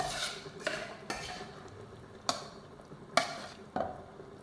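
Chard goes into cooking meat in a pan for Tunisian madfouna, with soft sizzling under intermittent sharp clinks and scrapes of a utensil stirring against the pot.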